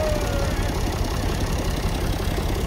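A Fiat 480 tractor engine runs steadily near a canal, with a loud, continuous rumbling drone and no breaks for the whole stretch.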